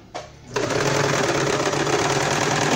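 An Elgin Genius Plus sewing machine switches on after a short quiet moment and runs steadily and loudly at close range, its rapid mechanical whir continuing without pause.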